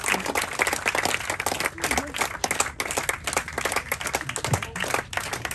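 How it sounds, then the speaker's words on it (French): A crowd applauds flamenco dancers on a Douro river cruise. The clapping is brisk and fairly close, with uneven bursts and a few low thumps. "Encore une fois, sous nos applaudissements de cette charmante danseuse de flamenco"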